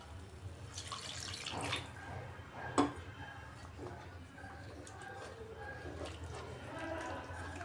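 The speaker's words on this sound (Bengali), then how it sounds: "এবার এর মধ্যে দিয়ে দিচ্ছি জল।" Water poured into a pan of fried gram flour and spice mixture for a begun sundari dish, a soft running splash heard nearby with a sharp clink partway through and some faint background voice.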